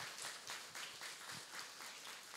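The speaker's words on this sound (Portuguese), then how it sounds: "Irmãos, vamos dar uma salva de palmas aqui para esses queridos." Church congregation applauding during a Presbyterian worship service, a steady dense patter of many hands filling the whole span at moderate, fairly distant level with no talk over it.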